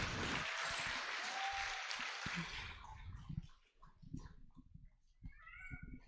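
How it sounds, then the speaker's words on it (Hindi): An audience at a live cultural night during a national conference for jurists applauds two sisters coming on stage to perform Rajasthani Ghoomar. Dense crowd clapping fills the first couple of seconds, then thins out and fades into scattered quieter sounds. "हम ज़ोरदार तालियों से इनका स्वागत करेंगे।"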